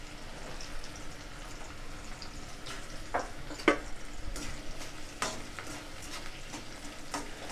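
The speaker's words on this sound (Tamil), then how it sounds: "வெங்காயம் கொஞ்சம் வதங்கட்டும்" Onions sauté in a pan after a mustard seed tempering: a soft, continuous sizzle with scattered scrapes and clicks of the stirring spoon, a few sharper pops, all close and fairly quiet.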